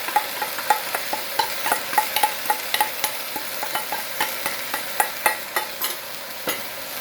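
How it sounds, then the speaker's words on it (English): Chinese sea spinach sautéing in extra virgin olive oil in a wok, a continuous close sizzle broken by rhythmic clacks and scrapes of a spatula stirring, with no voice. "Now as we're sauteing it, we're going to add our sauce."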